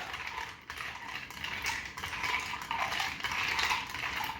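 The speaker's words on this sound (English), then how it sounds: "Then we just go ahead and stir those up." Cocktails stirred with ice in a mixing glass, a continuous close clinking and rattling of ice and spoon that runs throughout at low level, with no talk.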